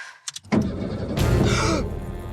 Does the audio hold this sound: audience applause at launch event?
no